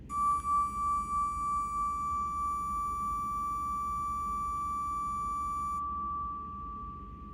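A steady pure electronic-sounding tone rings from a pipe driven by an Arduino-controlled electromagnet, beginning with a slight warbling pulse then holding evenly for several seconds over a low hum, with some upper overtones dropping away near the end.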